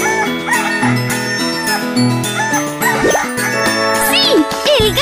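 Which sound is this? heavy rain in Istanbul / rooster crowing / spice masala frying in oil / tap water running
rooster crowing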